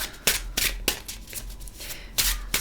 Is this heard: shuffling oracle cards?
yes